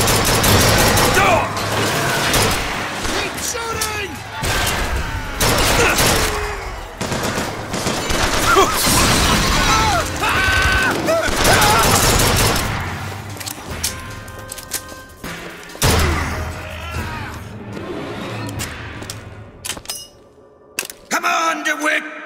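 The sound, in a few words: gunfire in Bioshock Infinite video game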